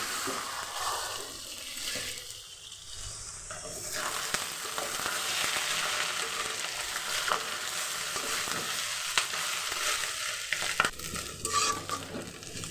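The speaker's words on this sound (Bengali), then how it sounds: "এই যে চামড়া লাল লাল করে ভেজে নিছি, চামড়া ভাজা হয়ে গেছে" Chicken skin frying in a pan for a Bengali curry, a loud, steady sizzle close by, with stirring scrapes throughout and no talk.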